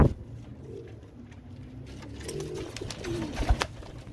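Royal Teddy pigeons coo in a series of soft, low, throaty rolls, close by and repeated over a few seconds, with no voices over them.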